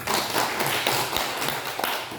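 A church congregation at a Sunday morning service applauding together to welcome a visiting deaconess, a dense, steady patter of many hands clapping close by throughout.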